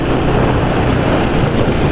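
Motorcycle engine idling and running steadily after a fresh oil change, loud, dense and close, a continuous rough rumble with no talk over it.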